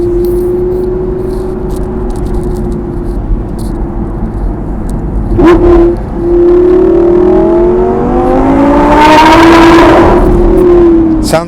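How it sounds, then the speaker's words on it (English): An upgraded Lamborghini Gallardo V10 Performante is driven through a tunnel. Its engine drones steadily and loudly, then revs up into a rising, echoing howl with rattly gear changes, close and sustained. "Sounds like a Formula 1 car."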